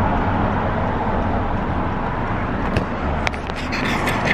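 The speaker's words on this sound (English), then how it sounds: "there's like hella cars around here" Steady roadway rumble of cars passing close by in a public outdoor area, a continuous broadband wash with a few brief scrapes and clicks near the end.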